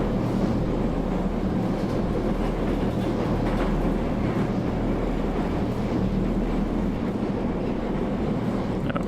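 A moving train in the game Process gives a continuous, loud interior rumble with steady low drone and faint rhythmic clatter, heard alone without talk.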